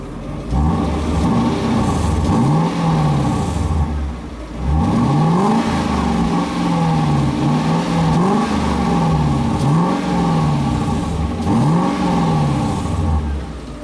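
Lexus LS 400 V8 engine revving with its rear muffler removed, a steady loud exhaust drone rising and falling in repeated swells, about seven revs, with a brief dip partway through.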